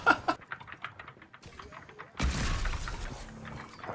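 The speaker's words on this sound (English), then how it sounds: "do you guys hear Diego's keyboard? It's just loud" Loud computer keyboard typing during a Fortnite game: a quick run of sharp clacking keystrokes, a pause, then a burst of brighter noise with more scattered key taps.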